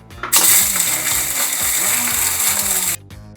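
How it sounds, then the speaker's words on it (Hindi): A spice grinder pulses whole spices, fenugreek among them, for pickle masala: a loud, continuous whirring grind with rattling seeds that starts abruptly, runs about two and a half seconds and cuts off. "और चलिए अब हम ये मसाले पीसते हैं और अब इसे हम पल्स करेंगे।"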